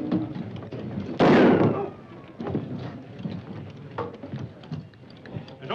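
Gunfire in a Western TV show, heard as one loud, close burst early on over a busy backdrop of crowd noise and shouting, followed by smaller sharp knocks.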